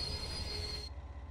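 An old DBR 363 locomotive moving in Train Sim World 2, high metallic wheel squeal over a rumbling rail drone that cuts off partway, leaving the low rhythmic rolling alone.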